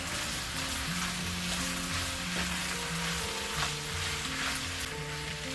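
Chicken being stir-fried with chili powder in a pan for a chicken and mushroom dish gives a steady, hissing sizzle throughout, with soft music playing underneath and no speech.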